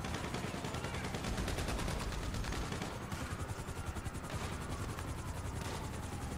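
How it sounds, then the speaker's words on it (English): Dense, continuous rattle of rapid gunfire in the video game GTA 5 Online, fast repeated shots blending into a loud sustained clatter. "Are you really shooting a bomb?"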